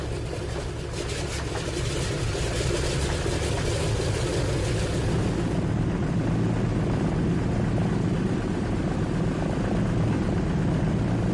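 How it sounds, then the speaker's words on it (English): A vintage DC3 Dakota propeller aircraft flying passengers from Cape Town to Oudtshoorn drones continuously and loudly, its engine roar steady with a slight change in tone midway. "a vintage aircraft prepares to climb the skies, the DC3 Dakota that flies the passengers from Cape Town to Oudtschoorn."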